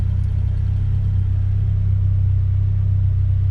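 A Ford Duratec engine idles steadily nearby, a loud, constant low rumble with an even throbbing pulse and no revving, holding the same pitch throughout.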